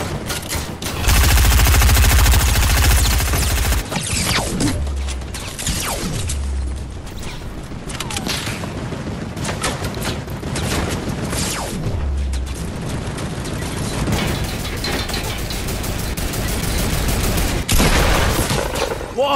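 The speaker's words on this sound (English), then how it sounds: "I don't know where I'm being shot from." Gunfire rattles without pause in a shooter game, a loud, dense stream of machine-gun fire and sharp shots across the whole stretch, with some falling whooshes and booms mixed in.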